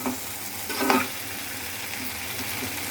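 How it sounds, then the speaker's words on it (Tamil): Potatoes dry-roasting in a pan for a potato fry, with a steady sizzle and a brief louder stir scrape near the start, continuous and close. "இது கொஞ்சம் ட்ரை ரோஸ்ட் ஆகட்டும்"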